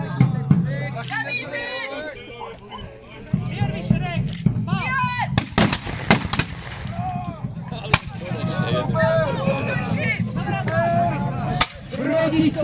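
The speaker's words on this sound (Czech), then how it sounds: "Císařské vojsko má palební převahu, protože má na kopci dělo" Loud booming cannon shots ring out amid a lively crowd at a 1645 battle reenactment, with sharp blasts at irregular intervals over shouting and chatter.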